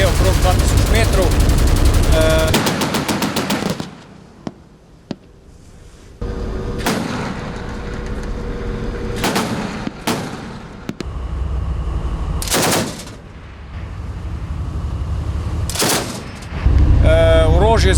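Russian-made 14.5 mm heavy machine gun firing from the Slovenian multipurpose ship Triglav 11, loud rapid bursts of automatic fire repeated several times with pauses between, booming close to the microphone.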